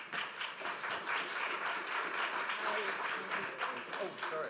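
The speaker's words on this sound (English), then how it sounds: "a warm round of applause for Charlina" An audience applauds a speaker being welcomed at an EU conference on ocean governance, steady dense clapping filling the whole stretch with voices mixed in.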